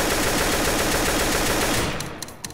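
Automatic gunfire from a gun in Garry's Mod DarkRP, a loud, dense, continuous burst of rapid shots that fades out near the end into a few isolated cracks.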